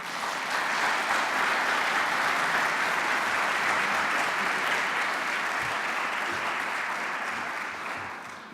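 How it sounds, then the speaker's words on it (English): Sustained applause from a conference audience at an opening plenary session, a dense, steady wash of clapping lasting throughout and tapering slightly at the end. "I think we have a few seconds for an applause for Richard"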